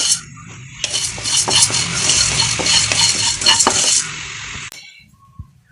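Cinnamon, cloves and star anise frying in a pan, a continuous close sizzle with scraping spatula strokes and occasional metal clinks, dying away to quiet near the end.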